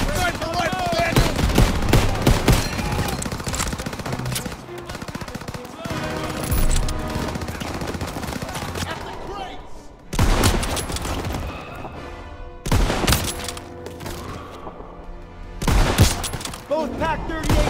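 Dense automatic and rifle gunfire with heavy bursts and booms in a Call of Duty battle around French trenches during Operation Cobra, loud and continuous with brief lulls, mixed with shouted voices.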